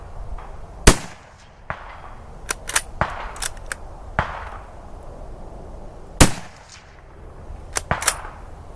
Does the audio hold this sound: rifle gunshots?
yes